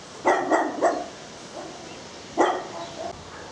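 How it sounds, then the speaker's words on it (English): Dogs bark at a dog's home passed on a country walk, giving a quick burst of three barks, then a faint yelp and one more loud bark at moderate distance. "Passing what now appears to be a dog's home."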